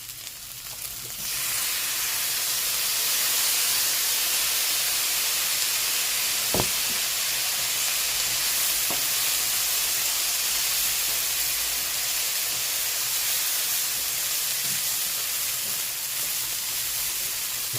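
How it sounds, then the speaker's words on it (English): Soy sauce poured around the edge of a hot wok for egg fried rice sizzles and hisses loudly and steadily, a continuous close frying sound with a couple of faint clicks and no talking. "Now I'm going to pop some soy sauce around the edge"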